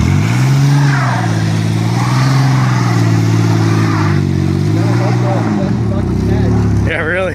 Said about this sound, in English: He said he's gonna do a burnout.